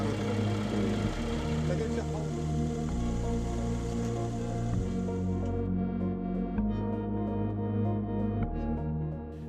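Spinach harvester built to straddle raised beds and slice root systems, a steady droning engine with tonal machinery hum, continuous and fairly close, with a voice talking over it.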